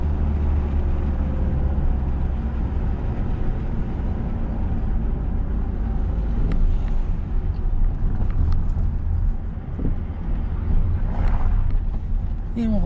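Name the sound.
car accelerating during driving lesson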